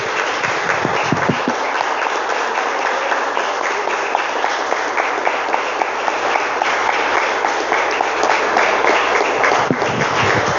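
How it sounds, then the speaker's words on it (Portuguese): A church congregation at an evangelical Brazilian service in Avaré claps together, a loud, continuous wash of many hands with a few sharper individual claps near the start, sustained for about ten seconds with no talking. "vamos aplaudir ao Senhor"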